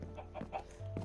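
Several short chicken clucks in quick succession from a Minecraft chicken farm over a steady low hum, with a brief gap before the hum swells again.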